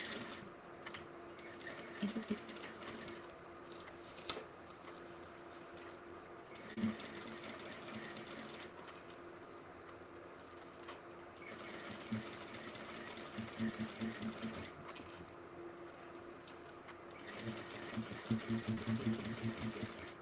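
A sewing machine stitches bag gussets at a 3.5 stitch length in several bursts of rapid, even whirring with short pauses between them, close and clear, with light handling clicks.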